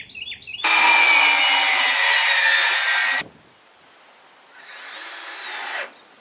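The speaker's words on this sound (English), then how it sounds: "I'm putting a little countersink in there just to get them out of the way of those runners" A power drill countersinks bolt holes in wood for deck stairs, a loud high whine lasting about two and a half seconds, then a second shorter, quieter burst after a pause.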